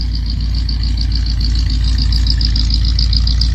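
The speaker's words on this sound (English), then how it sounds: "Dual exhaust on it, sounds great. Glass pack makes it sound even that much better." A 1965 AMC Rambler 770 restomod idles steadily through a dual glass pack exhaust, giving a close, loud, even low rumble with a constant pulsing throb and no voices.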